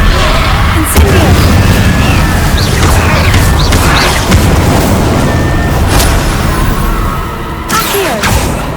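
The Incendio fire spell in Hogwarts Legacy, heard as loud, continuous roaring blasts with repeated booming bursts throughout.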